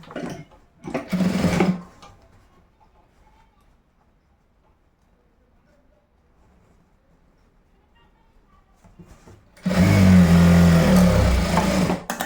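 A sewing machine stitches fabric for boys' school uniform shorts in two loud, close bursts of rapid whirring, a short one at the start and a longer one at the end, with near-quiet between.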